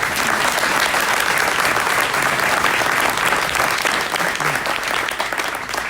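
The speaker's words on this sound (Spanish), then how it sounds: "Un aplauso," A conference audience at the Arde Latino America event breaks into sustained applause, a thick steady roar of many hands clapping that holds evenly for the whole stretch with no voices on top.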